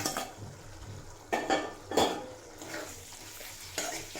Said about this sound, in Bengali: মশলার সাথে খুব ভালোভাবে ভেজে কষিয়ে নেব